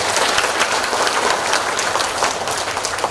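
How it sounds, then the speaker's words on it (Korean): Audience at a residents' representative council founding ceremony for a redevelopment project applauds continuously to welcome the committee chairman, a dense, steady clapping throughout with no talk. "큰 박수로 환영해 주시면 감사하겠습니다"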